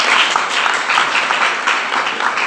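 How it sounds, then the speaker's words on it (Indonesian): Students in an Indonesian-language classroom lesson clap their hands together in a steady, dense burst of applause that fills the room, with no talking over it. "Tepuk tangan untuk kita semua."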